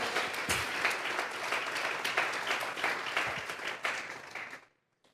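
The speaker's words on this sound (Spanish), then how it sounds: "Vamos a regalarle ofrenda de palmas al Dios de la gloria." A church congregation claps loudly as an offering of praise to God, a dense, steady wash of many hands that holds for several seconds, then stops abruptly.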